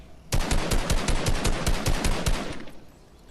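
Automatic gunfire in a video game rattles out as one loud sustained burst of rapid shots lasting about two seconds, then stops, with no talk over it.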